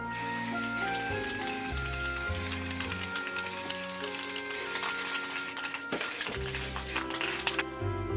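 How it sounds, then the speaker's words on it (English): A couple of short hissing bursts of matte acrylic aerosol spray cut through steady background music, each a brief sharp spritz coating a craft winter village. "I'm using this matte acrylic spray"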